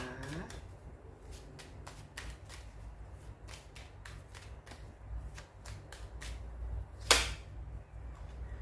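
Tarot cards are shuffled and laid out one by one, giving a run of quiet, crisp flicks and slaps at a loose, uneven pace, with one sharper snap near the end.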